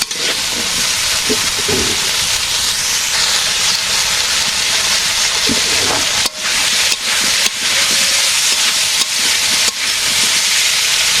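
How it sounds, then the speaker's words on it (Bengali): Vegetable stems and potatoes fry in a pan in a village kitchen, a loud continuous hiss and sizzle with occasional clatter from stirring. "ডাটা একটু কষিয়ে আলু দিয়ে ভেজে দেবে"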